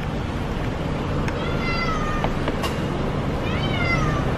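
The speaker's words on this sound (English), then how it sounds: "Look, it's that cat again." Cat in a car park in Bangkok, meowing several times in drawn-out, rising cries over steady background noise, fairly close and clear.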